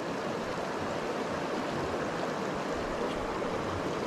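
A Blue Ridge Mountains trout stream rushes steadily, a broad, continuous close-up wash of flowing water with no voices.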